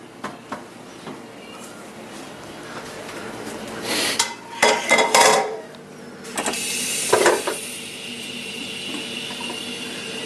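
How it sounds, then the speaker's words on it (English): Black beans being rinsed at a kitchen sink: running tap water splashing into a pot, with clattering of beans and pots and a few metallic clinks, close and fairly loud in bursts with no talk. "Now we're going to go over to the sink and clean the black beans."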